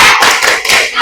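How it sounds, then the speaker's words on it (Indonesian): A class of students claps in unison for appreciation, a loud, close burst of rhythmic hand claps. "Mari kita tepuk apresiasi untuk kita semua."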